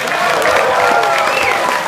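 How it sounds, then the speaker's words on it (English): A Comic Con panel audience claps and cheers in a continuous, loud burst inside a convention hall, with a few voices rising above the crowd noise. "clap your hands if you love Big Trouble in Little China"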